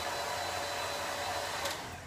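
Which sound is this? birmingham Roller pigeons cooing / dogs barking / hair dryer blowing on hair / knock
hair dryer blowing on hair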